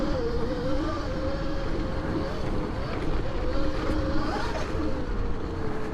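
A GK-85x electric conversion of a Kawasaki KX85 dirt bike rides off-road with a steady motor whine under heavy wind rush against the microphone.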